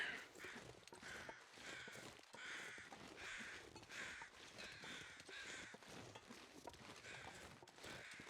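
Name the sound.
crows cawing in video game The Long Dark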